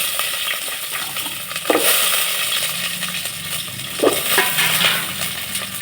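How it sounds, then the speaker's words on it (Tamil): Onions and curry leaves fry in hot oil with spluttered mustard seeds for a village-style cowpea kuzhambu, a steady close sizzle with stirring and a couple of sharper pops or scrapes. "கடுகு பொறிஞ்சிருச்சு இப்போ கருவேப்பிலை சேர்த்துக்கலாம் வெங்காயத்தை சேர்த்துக்கலாம்"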